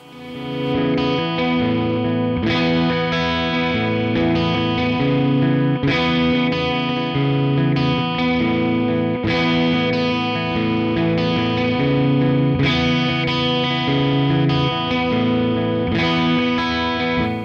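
Heavily distorted PRS Custom 24/08 2025 edition electric guitar with Exotic Top playing sustained power chords in a steady rock rhythm, thick and loud with no talking.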